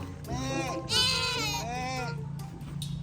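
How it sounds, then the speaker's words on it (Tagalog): A goat bleats in a few drawn-out, wavering cries close by on a farm outing, with people talking over and around the calls. "Let's meet the goat. Go see the goat."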